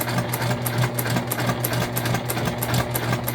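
A sewing machine stitching a seam on a bag runs at a steady, fast clatter, with evenly spaced needle strokes repeating throughout, loud and close with no talking.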